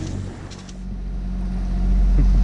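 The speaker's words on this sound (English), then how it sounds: "It would be pretty annoying to listen to the engine the entire night." A sailboat's engine drones steadily while motoring at sea on the way back to Denmark, a low, continuous hum that grows gradually louder and heavier across the clip.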